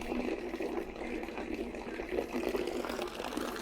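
Water is poured into a bucket while brewing a 10-litre malt-extract blonde ale, a faint, steady trickling and splashing with no one speaking.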